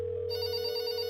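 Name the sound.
telephone ringing in a video game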